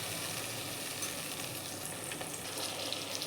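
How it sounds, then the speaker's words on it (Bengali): Green chillies sauté in hot oil in a pan, giving a steady, close sizzle and crackle that holds at an even level throughout, with faint stirring and no voices. "আর কয়েকটা কাঁচা লঙ্কা দিয়ে এগুলোকে আমি অল্প সময় সাঁতলাবো।"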